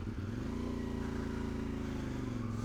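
A CF Moto 450MT motorcycle engine runs steadily at idle, a deep throbbing rumble with a low, even pulse throughout.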